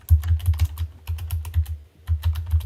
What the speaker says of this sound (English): So, Matt, Are you typing into your microphone?